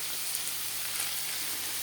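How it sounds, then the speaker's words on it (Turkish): Minced meat being stir-fried in a pan together with eggplant, peppers and onions, giving a steady, soft sizzle and crackle that holds evenly throughout without any voices. "bu şekilde patlıcan, biber ve soğanlar ile birlikte kıymayı kavuruyoruz"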